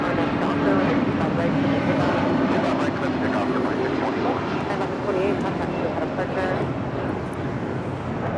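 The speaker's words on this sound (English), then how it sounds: "This is United 1128 departing to Newark on a 757-200." A United Boeing 757-200 takes off from Los Angeles International Airport, a loud, steady broadband jet roar that holds for the whole stretch with a low engine drone underneath.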